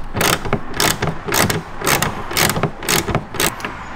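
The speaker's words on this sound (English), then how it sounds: "And now that opens up this bolt for you to be able to go ahead and take off." A hand ratchet works a bolt loose on a 2018-or-newer Volvo XC60 taillight, giving about eight rhythmic bursts of clicking, close up and loud.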